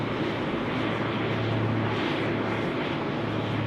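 A Qantas airliner roars steadily at Sydney Airport, a broad, continuous jet rumble heard alone at fairly close range.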